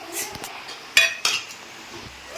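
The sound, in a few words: stirring biryani ingredients in a pot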